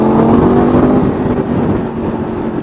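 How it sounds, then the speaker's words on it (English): A motorcycle's exhaust drones loud and close while riding, a steady low engine tone that eases off slightly toward the end, with no talk. "I'm gonna listen to that exhaust tone and do stuff like this"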